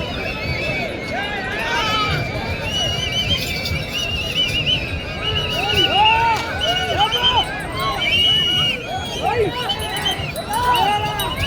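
Spectators at a race shout and cheer loudly around a temple festival bullock race, a dense, busy babble of many excited voices with rising calls, mixed with crowd hubbub and running close by.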